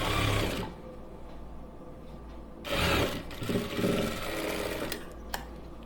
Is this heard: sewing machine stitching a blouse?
yes